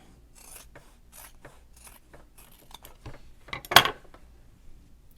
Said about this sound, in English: So I'm going to trim this and then top stitch it.